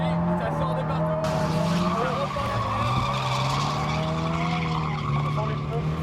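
Car tires on stock rubber squeal and skid continuously while smoking, a loud sustained screech with rising and falling pitch over engine roar, with someone talking over it.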